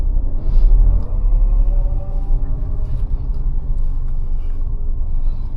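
A car reverses during a driving lesson, its low engine rumble steady and close throughout with no talking over it.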